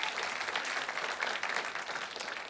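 Audience applause at a mountaineering gala, a dense even patter of many hands clapping that holds steady throughout.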